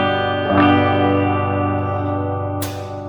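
A clean, jangly electric guitar played through a Gibson GA-100 amplifier with its compression switched on, giving sustained, shimmering chords with a bright strum near the start and another sharp strum near the end.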